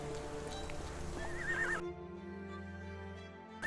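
A horse whinnies loudly over hoof clip-clops and background music in the video game Sherlock Holmes: The Awakened, the neigh rising and wavering before cutting off abruptly.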